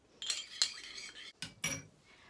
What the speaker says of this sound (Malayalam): അതുവരെ നമുക്കിത് നല്ലപോലെ മിക്സ് ചെയ്യാം.